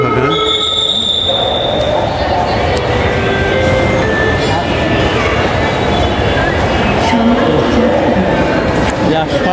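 A metro train runs toward Diabari in Dhaka, its cabin filled with a loud steady rumble, rattling and a high wheel squeal near the start, while passengers talk.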